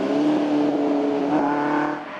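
A historic Matra Djet sports car drives a Tour de Belgique rally stage, its engine note a steady strained drone that holds loud and close for a couple of seconds before easing slightly.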